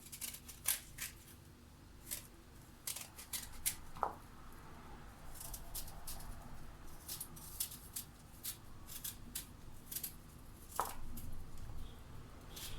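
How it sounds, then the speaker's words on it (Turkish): A knife slices peeled quinces for jam, giving a string of soft, crisp cuts in irregular rhythm, close by and fairly quiet, with no talk. "Ve istediğiniz büyüklükte dilimleyip suyumuzun içerisine atacağız."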